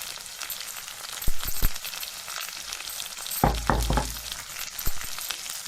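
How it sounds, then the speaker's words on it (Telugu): Cumin and garlic paste frying in a pan, a continuous close sizzle broken by a few sharp spoon knocks and a louder burst of stirring midway. "ఈ జీలకర్ర, ఎల్లిగడ్డ ముద్ద పచ్చివాసన ఏమి లేకుండా బాగా ఫ్రై చేసుకోవాలి"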